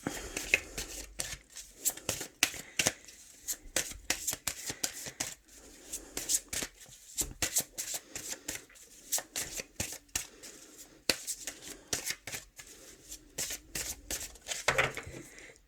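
Tarot deck being shuffled by hand, a long run of close, crisp riffling and flapping bursts in a steady rhythm with brief pauses, then cut, quiet and without talk.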